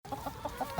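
Homestead chickens cluck softly in a brief burst of short, rhythmic clucks, faint and close, with no talking.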